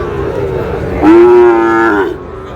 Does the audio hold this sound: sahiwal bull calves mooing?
yes